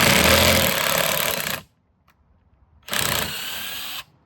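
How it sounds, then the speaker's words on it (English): A power drill drills into a Lotus Elise S1 clamshell body panel, running loudly in two sustained bursts, separated by about a second of near silence, with a harsh, grinding buzz. "you can drill it a little bit extra"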